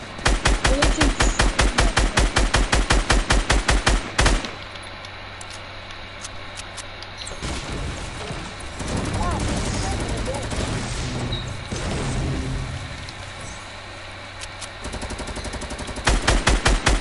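Legendary SCAR assault rifle firing in Fortnite's 50v50 mode: loud rapid bursts of automatic shots at the start and end, with quieter game noise and a voice talking in between.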